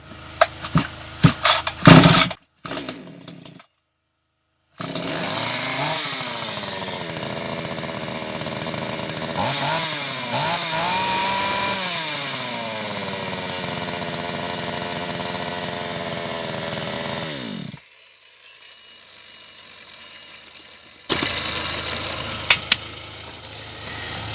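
START SBP-2700 petrol chainsaw being pull-started with a couple of sharp rope tugs, then the engine catches and runs with a loud, steady buzzing drone that revs and wavers before cutting out, followed by a brief restart.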